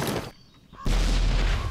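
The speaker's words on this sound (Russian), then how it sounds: "Давай я сейчас гранатку вот так вот." A grenade goes off in the video game Zompiercer: a short lull, then a sudden loud, deep blast with a sustained low rumble that lasts about a second, ending in a sharp crack.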